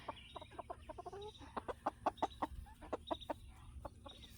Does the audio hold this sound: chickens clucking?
yes